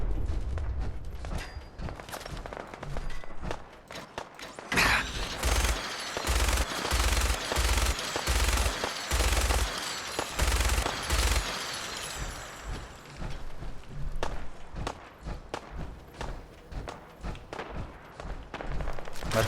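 Rapid bursts of automatic gunfire in the video game Fallout 4, sustained for several seconds with clustered shots and thuds over game background noise.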